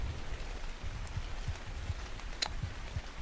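Rain falls in Ark Survival Ascended on the Ragnarok map, a steady faint patter with soft low drops landing at irregular intervals and one brief sharp tick near the end, with no talking.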